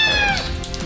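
Shelter cats meowing loudly at close range, one long drawn-out meow sliding downward followed by a shorter, fainter cry.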